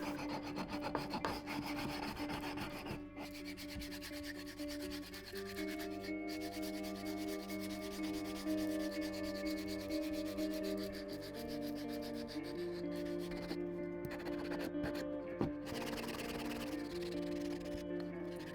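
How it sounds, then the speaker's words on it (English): A wooden bottle opener is sanded by hand with 80 and 120 grit paper, giving a steady, continuous rubbing rasp that runs close and loud with no talking. "As for the sanding, I didn't think that this would need to go to a very high grit, so I just used an 80 and 120 grits"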